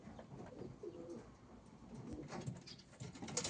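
Pigeons cooing in a loft, soft low repeated coos close by over a faint steady background, with no voices.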